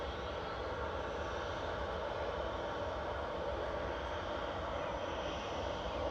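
A Manchester to Bilbao airliner taxis across runway 23 at Manchester Airport, its jet engines giving a steady, distant broadband roar that stays even throughout.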